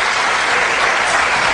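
A church congregation applauds together in a brief, loud, even burst of clapping that runs unbroken, with no voice standing out over it.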